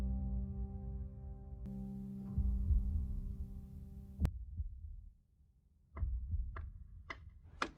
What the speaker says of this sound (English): it cuts to black and you can hear a heartbeat, and people think you can hear Vecna's clock also ticking here